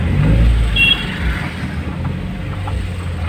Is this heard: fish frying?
no